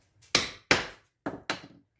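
A cleaver blade hammered straight down through a corn cob on a cutting board: four sharp, close knocks, two evenly spaced, then a pause and two more in quick succession.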